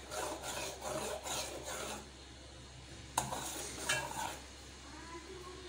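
Pizza sauce being stirred in a pan over the stove, a soft scraping and rubbing of a utensil against the metal in short repeated strokes, close and moderately quiet with a few sharper clinks.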